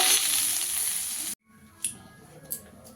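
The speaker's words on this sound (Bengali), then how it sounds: "আমার শিমটাও একটু ভেজে নেওয়া হয়ে গেছে।" Flat beans frying in hot oil for a Bengali potato, cauliflower and poppy seed vegetable dish give a loud, steady sizzle that cuts off abruptly, followed by quieter pan sounds with a couple of brief scrapes.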